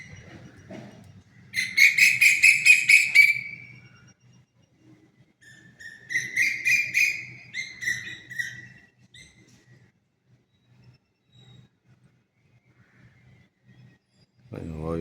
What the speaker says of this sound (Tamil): பறவைகள்லாம் பறக்குது.